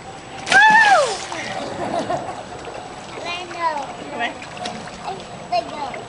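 A child jumps into a backyard pool with one loud close splash, followed by sloshing water and children's voices talking and squealing over the ripples.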